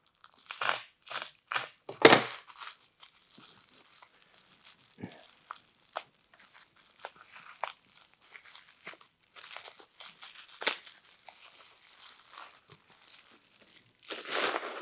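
Crinkling paper is peeled from a vintage aquarium item during restoration, heard as close, irregular bursts of crumpling and tearing with short quiet gaps over about fifteen seconds.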